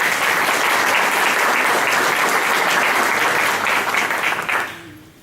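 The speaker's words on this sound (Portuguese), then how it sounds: "Recebemos com uma salva de palmas." Dense, sustained applause from an audience welcoming a speaker at an opening lecture, loud and steady for about five seconds before tapering off abruptly.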